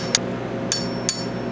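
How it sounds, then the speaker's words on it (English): A hammer strikes a pin driver three times with sharp metallic taps, driving wrist pins from a Tremec TKO600 5-speed transmission shift lug; the hits are spaced unevenly and sound close and crisp over quiet background. "You just need to get a pin driver and drive them out."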